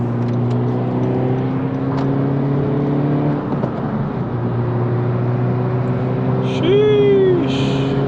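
A 10th-generation Honda Civic Si hums steadily from inside the cabin at speed, with engine drone and road noise throughout and a brief rising whine near the end. A voice is heard faintly under it.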